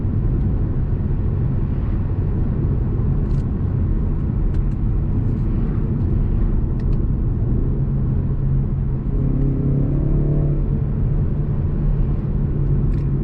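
A BMW 330i M Sport G20 with a ZF automatic gearbox driving on the road, a steady loud engine and road rumble inside the cabin, with a brief rising engine note as it downshifts.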